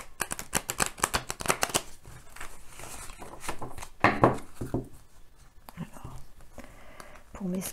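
A deck of oracle cards is shuffled by hand in quick, crisp riffling bursts, close and fairly quiet, with soft whispered talk and rustling handling noise mixed in.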